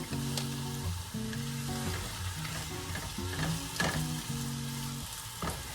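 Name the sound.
greens and zucchini sautéing in a pan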